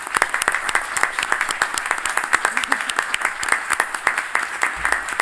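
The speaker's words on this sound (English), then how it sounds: "I think we should applaud for him as well" An audience at a PhD defence ceremony applauds, a moderate crowd of distinct hand claps patters at a quick, uneven rhythm without letting up.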